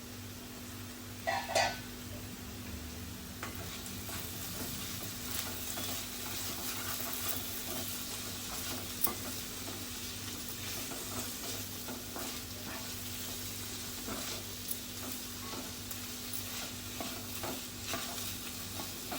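Bitter gourd bhaji stirred in a pan, a steady low sizzle with intermittent scraping and clattering strokes of the spoon across the cooking vegetables.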